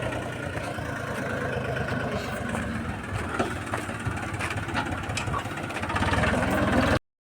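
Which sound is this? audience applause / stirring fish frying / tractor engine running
tractor engine running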